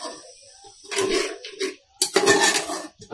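Spoon scraping and clinking against a pot while masala for a mutton curry is stirred. Two bursts of metallic stirring sit over a low sizzle, close by, with short quiet gaps between them.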